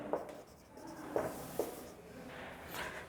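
Handwriting on paper during a grammar exercise, with a few short scratchy pen strokes and soft rubbing, close and quiet with no talk.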